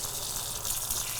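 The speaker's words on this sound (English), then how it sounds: "now I'm going to pour some hot tap water into here until I get to 2/3 of a cup" Hot tap water pours steadily into a measuring cup for strudel dough, a soft, even hiss of running water at close range.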